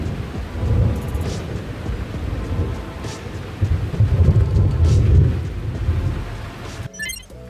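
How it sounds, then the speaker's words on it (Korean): A summer thunderstorm brings heavy rain over a countryside garden where pumpkin flowers grow. Low thunder rumbles roll through the steady downpour, peaking in the middle, with a brief burst of faint chirping at the end. "천둥이 멈출 기미가 없다."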